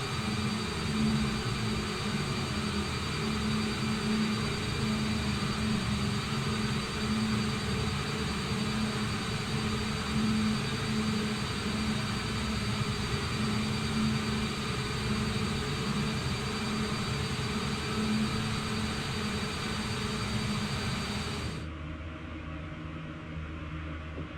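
Boeing 787 jet engines at a steady taxi in Microsoft Flight Simulator, a continuous loud whine and rumble that holds level for over twenty seconds before dropping abruptly to a quieter hum.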